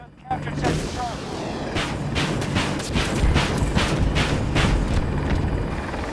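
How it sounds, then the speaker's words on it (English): A TOW missile fired from an Apache helicopter in Battlefield 2042, a sudden loud launch followed by a dense run of booming, crackling blasts over constant rotor and engine noise, with a voice talking faintly underneath. "the tow missile is also extremely good at taking out infantry"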